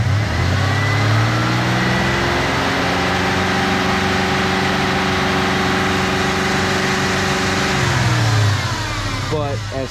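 Ford Mustang 3.8L engine that misfires when hot, running steadily for about ten seconds with a loud, continuous low rumble that holds an even pitch, then settles back near the end.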